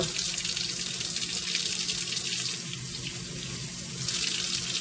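Hot water runs steadily from a tap into a sink, a continuous close splashing rush that holds an even level throughout with no voices.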